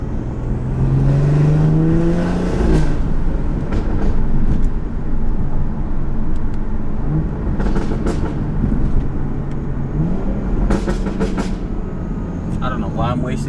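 A BMW 440i engine revs while driving, with rising, falling tonal sweeps over a constant low road rumble, loud and close, repeated in several bursts.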